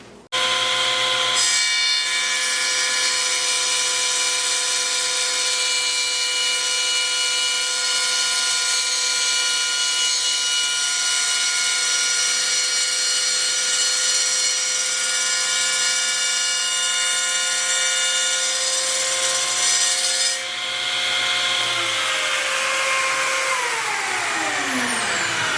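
A table-mounted saw recuts a taper in a wood workpiece set about a quarter inch on a taper guide, a loud continuous whine with steady tonal hum for about twenty seconds, then spinning down near the end.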